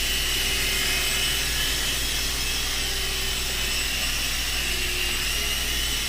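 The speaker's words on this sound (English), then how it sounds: "Now it does go fairly quick if you give it full throttle across the room." An E-flite Blade MCX Tandem Rescue RC helicopter flies indoors with a loud, steady whirring buzz of small rotors and motors that holds constant and close throughout.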